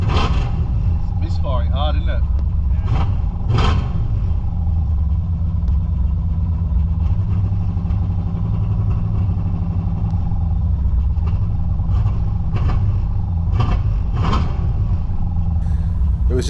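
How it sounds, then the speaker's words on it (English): A VN Calais car engine running rough on its first start, misfiring hard while it runs rich and fouls its plugs, under intermittent talk, with a steady low rumble throughout. "Do you hear that noise? Misfiring hard, isn't it?"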